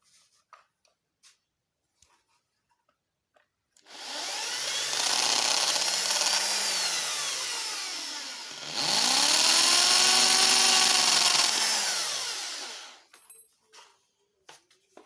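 Power drill enlarging holes, with two long, loud whirring bursts of about four to five seconds each separated by a brief stop, framed by scattered faint clicks and taps.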